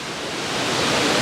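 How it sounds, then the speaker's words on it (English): A waterfall pouring in a steady broadband rush, loud and close, with no voices over it. "what does this waterfall do for you?"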